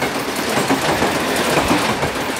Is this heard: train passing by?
yes